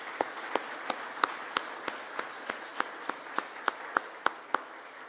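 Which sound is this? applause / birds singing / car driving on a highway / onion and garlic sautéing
applause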